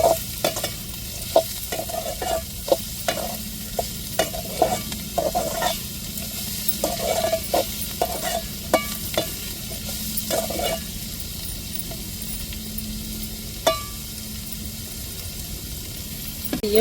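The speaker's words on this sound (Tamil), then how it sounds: "முட்டைகோஸ்லாம் நல்லா வேகணுங்க அதனால நம்ம வெங்காயத்தோடையே சேர்த்து நல்லா வதக்கி விட்டுக்கிடுவோம்" Cabbage and onions being sautéed in a pan for a cabbage omelette, with a steady sizzle under repeated stirring scrapes and clanks of the spatula, close and fairly loud, no talking.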